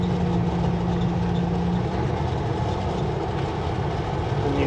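A truck driving with its engine brakes off gives a steady, droning howl under continuous road noise, loud and unbroken throughout.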